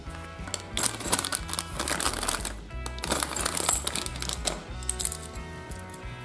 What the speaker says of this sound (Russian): А гремят тут колечко с цепочкой.